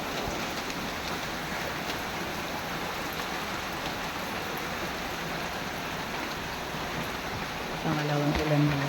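Steady dense rain pours during a typhoon in La Union, a constant broadband hiss of drops hitting surfaces throughout, growing louder and heavier near the end.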